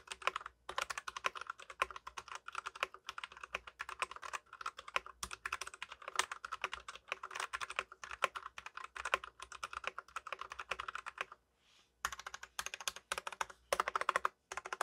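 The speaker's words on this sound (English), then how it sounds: "Let's see how it sounds in a quick typing test." Typing on an LTC Nimbleback budget mechanical keyboard with Wano tactile brown switches: a quiet, steady stream of soft, rapid keystroke clacks close up, with one brief pause near the end and no talking.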